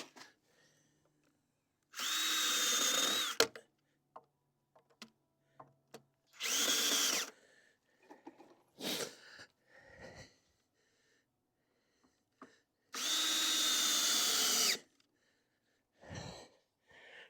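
A power drill drives screws into a wooden deck landing with a step in several separate bursts, each a rising whirr of a second or two, between quiet pauses and small handling knocks.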